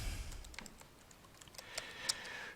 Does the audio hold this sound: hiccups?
no